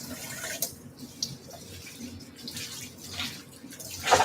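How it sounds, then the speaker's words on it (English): Tap water runs into a colander as parsley is rinsed in a kitchen sink, a steady splashing wash with small shifts as the leaves are moved, heard close with no talk. "So I'm going to use the colander again and rinse it out."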